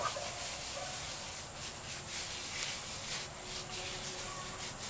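Hands rub the rind of a wheel of artisanal parmesan cheese during curing, a soft continuous scrubbing friction with gentle rhythmic swells, close and alone.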